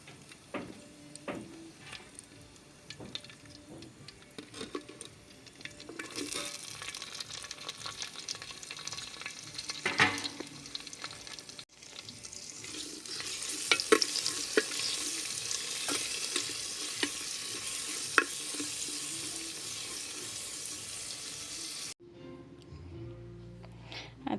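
Onion and green chili frying in hot oil with mustard seeds and curry leaves, a loud crackling sizzle with scattered pops that builds midway, then cuts off near the end, with no talk.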